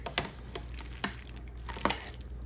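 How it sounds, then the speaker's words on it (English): A spoon stirs warm macaroni salad with mixed vegetables in a pot, giving a few soft, wet squishing scrapes at irregular intervals, quiet and close. "Just keep stirring it till we get it all mixed up"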